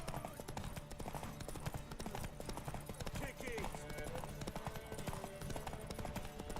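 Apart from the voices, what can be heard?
video game horses galloping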